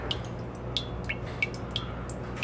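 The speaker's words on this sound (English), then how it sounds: "We have slowed to a drip." Strawberry wine seeps slowly through a filter, falling as small, bright, evenly spaced drips about every third of a second, quiet and close against a low steady background hum.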